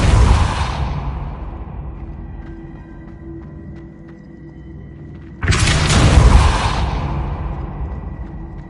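A Depulso spell cast in a Harry Potter video game lands as two loud whooshing blasts with a booming rumble, each one dying away slowly, the second coming about five seconds after the first.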